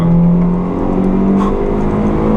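A Honda Civic ED7 accelerating on the Fontenay-le-Comte race circuit, its engine a loud, close, steady roar with a rising tone, heard alone for a couple of seconds.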